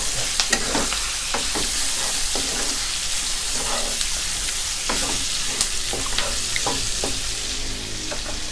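Pork belly stir-fried with Chinese mala spice over high heat in a wok: a loud, constant sizzle with repeated sharp scraping and tossing strokes from the spatula throughout, with no talking.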